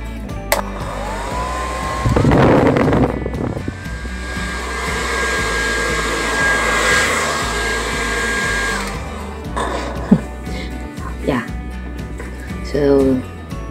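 A Philips DryCare hair dryer runs with a loud, steady whooshing blow for several seconds, switched on and off, with people talking around it and a faint high whine in the airflow.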